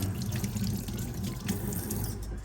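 Water runs steadily from a tap, splashing close by with a continuous gushing texture and small irregular spatters, and no one speaks.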